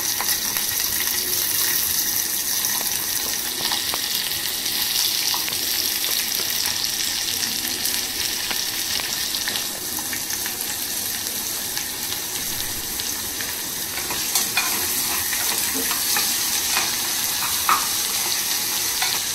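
Onions fry in a pan and are stirred until reddish, making a continuous close sizzle with intermittent scraping and stirring clicks, steady and fairly loud throughout with no talking.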